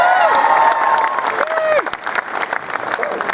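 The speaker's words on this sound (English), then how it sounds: "Christchurch, once again, big round of applause for our guests" A convention panel crowd at Armageddon 2016 in Christchurch breaks into dense applause with some cheering and shouts, loud and sustained for a few seconds and fading slightly toward the end.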